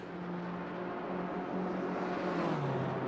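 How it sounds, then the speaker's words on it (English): An Assetto Corsa Competizione race car at Monza runs wide off the track, a steady droning engine roar that holds near and loud for a few seconds, its pitch shifting slightly as it goes. "we can hear one car goes off wide"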